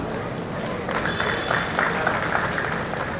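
An outdoor audience at a state highway groundbreaking ceremony in Vijaydurg breaks into applause, a moderate patter of many hands clapping for a couple of seconds while someone speaks into a microphone over it.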